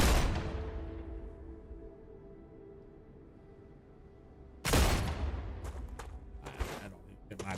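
Gunfire aimed at a creeper crawler creature in StarRupture, two sharp loud shot bursts with long decaying tails, the second followed by scattered smaller cracks, with speech present.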